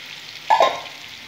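Small-cut vegetables fry in a pan for flattened-rice pilaf, giving a short, close sizzling burst that swells and fades within about half a second over a quiet background.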